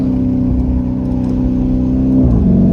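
A 2022 Lamborghini Urus engine idles with a deep, steady rumble through lowered windows, loud and close, with a slight rise in pitch near the end.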